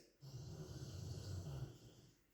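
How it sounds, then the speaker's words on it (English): A single snore rumbles in the background, one low, rasping breath drawn out for about two seconds at a faint, distant level. "Confirmation from a snoring reel right there in the background, right?"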